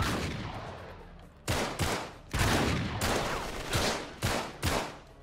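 Enemy gunfire in Uncharted 3: Drake's Deception, a steady clatter of automatic shots with several sharp loud bursts recurring every half second or so, close and continuous without talk.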